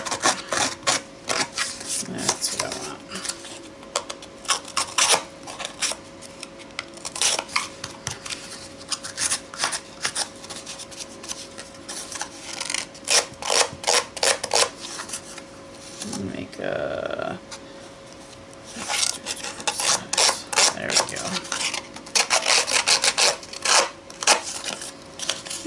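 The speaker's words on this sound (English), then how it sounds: "This is the Tim Holtz paper distressor." A Tim Holtz paper distressor is scraped along paper edges in fast, rasping strokes that come in repeated bursts with brief pauses, close and fairly loud throughout.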